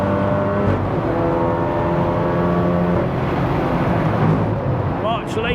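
A 500 BHP big-turbo MK7 Golf R powering through the Eau Rouge corner at a race circuit, its engine a loud, steady sustained drone with a rising harmonic pitch, and a brief high whistle near the end.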